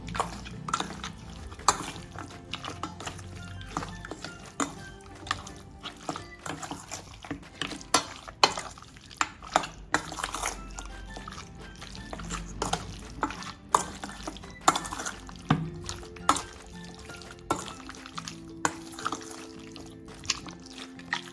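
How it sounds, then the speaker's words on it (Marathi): A chicken lollipop marinade is mixed by hand in a bowl, with irregular wet squelches and soft clinks against the sides. The sounds are close and repeated, with brief pauses between strokes. "आता आपण हे मिश्रण आधी एकजीव करून घेणार आहोत"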